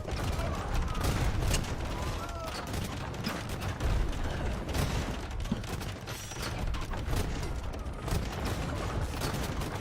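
Hand cannoneers firing in an Age of Empires battle: dense, overlapping crackles of gunpowder shots roll on without pause for the whole stretch, layered over a thick, steady din of combat.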